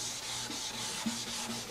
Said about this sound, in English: I prefer to use straight strokes with the grain in the final sanding.